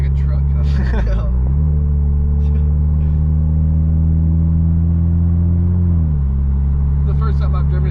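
A deep, steady exhaust rumble from an MK5 Toyota Supra with a Tomei Type-R single-exit exhaust in sport mode, holding for several seconds, with a brief rev change near the start and end.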